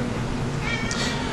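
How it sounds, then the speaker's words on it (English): A domestic cat meows once, close and fairly loud, a short rising cry over a constant fan-like hum indoors. "That's the cat. Don't worry about that."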